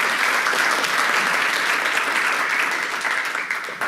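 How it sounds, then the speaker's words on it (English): A conference audience gives sustained applause to the event organizers, a dense, even roar of many hands clapping that holds at full strength throughout before easing slightly at the end. "Can I get a round of applause for all of the conference organizers"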